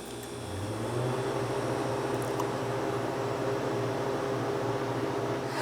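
A home freeze dryer running, a steady mechanical hum with a low tonal drone and broadband fan-like hiss, constant and unbroken.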